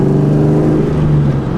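Supercharged 2004 Mustang Cobra fitted with a VMP Gen3R blower, engine held at a loud, steady high rev with a strong low drone throughout, close by on a dyno.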